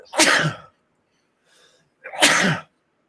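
Two loud, close sneezes burst out about two seconds apart, with a faint sniff in the quiet gap between them.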